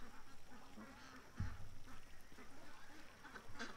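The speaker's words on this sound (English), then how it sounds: "Oh, there's some more black ducks." A few black ducks give soft, scattered quacks, faint and somewhat distant, over a low outdoor hiss and a brief thump.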